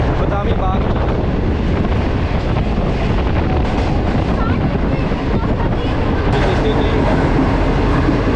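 A Green Line train running from Lahore toward Rawalpindi at about 60 km/h, heard from inside as a loud, unbroken roar of wheels and rail rumble with wind noise throughout.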